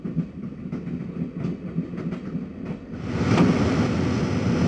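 In the Broken Sword adventure game, a train rumbles along with faint rhythmic clicking on the rails, then swells into a louder, closer roar of wheels and wind that holds steady to the end.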